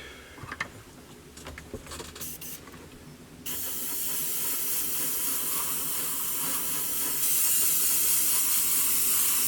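A steady, close airbrush hiss applies varnish to an Airfix 1:72 Jet Provost model, starting after a few quiet handling clicks and running unbroken, growing slightly brighter toward the end.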